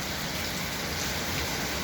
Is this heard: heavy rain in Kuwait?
yes